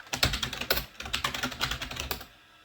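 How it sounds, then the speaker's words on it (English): Rapid keystrokes on a computer keyboard as a short command is typed, a brisk run of close, clicky taps that stops near the end. "So you just type deactivate like I just did."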